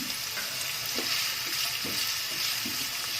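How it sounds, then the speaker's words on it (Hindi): Steady sizzling of garlic and onion stir-frying in a hot pan over low-medium heat, with faint scraping as they are stirred, continuous and close. "गैस को लो मीडियम पे कर देंगे और इन्हें स्टर करते करते गोल्डन ब्राउन होने तक कुक करेंगे"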